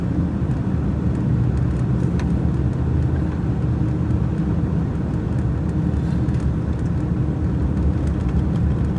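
An all-wheel-drive Subaru car travels along a snowy road, its engine and tires producing a steady, close, continuous low rumble and road roar that stays even throughout, with no talking.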